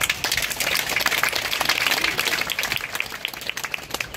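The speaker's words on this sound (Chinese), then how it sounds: "所以大家是不是应该给我们美术系的书展一个掌声好不好" A crowd applauds at the opening of a university art department's graduation exhibition, with many hands clapping in a full, continuous burst that thins slightly toward the end.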